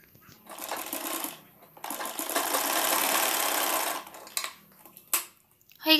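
A sewing machine stitches the folded hem of a two-panel petticoat in a close, steady burst lasting a few seconds, stopping and then giving a couple of short restarts.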